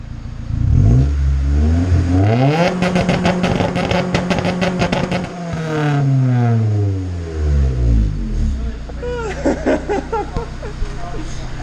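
A Honda CRX engine is run on a Clayton chassis dyno, climbing through loud rising revs with a rapid popping rattle, dropping back, then revving up again, with voices talking underneath.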